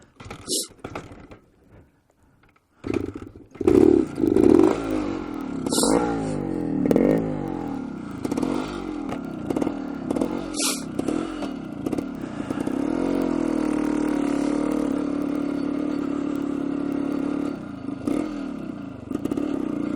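A 1973 Suzuki TS250 Savage motorcycle engine barks through several sharp revs, then settles into a steady, loud idle-to-rev drone up close, with someone talking at intervals.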